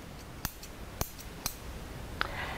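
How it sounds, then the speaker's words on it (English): Kitchen scissors snip through spinach leaves in a few sharp, separate cuts at an uneven pace, close up and without talk. "take your kitchen scissors and finely chop up the spinach"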